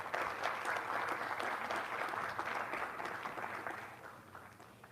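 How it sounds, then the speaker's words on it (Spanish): An audience at a university academic event claps for two presenters, dense sustained applause heard from a middle distance that slowly thins and fades toward the end, with no talk over it. "Un aplauso para ellos, por favor."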